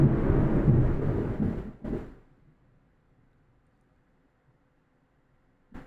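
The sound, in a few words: thunder during heavy rainstorm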